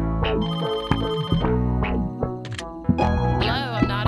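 A telephone rings repeatedly in a dense, loud mix, its bell tones recurring under constant overlapping sound with voices present.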